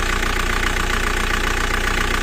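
A car engine idles steadily after a fuel pump pressure test, a constant close mechanical hum with a regular low pulsing throb and no pauses.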